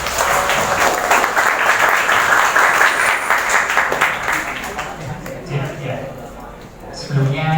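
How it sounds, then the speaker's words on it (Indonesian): Sustained applause from an audience fills the room, steady and dense, then tapers off as a voice begins speaking near the end. "Mari kita sambut dengan meriah dengan tepuk tangan."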